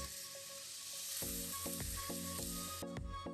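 Rice tinted with orange saffron powder goes into a hot, sizzling pot, a steady close fry hiss broken by repeated sharp metallic clanks and scrapes of stirring.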